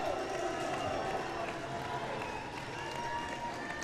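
Crowd at a high school boys volleyball match, Cranston West vs. Central, giving a steady roar of cheering and noise from a gym, distant and continuous, with an announcer talking over it.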